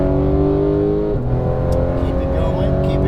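A Porsche GT3 991 on a race track, its engine droning steadily and shifting pitch midway as the throttle opens, with an instructor's voice talking over it from inside the car.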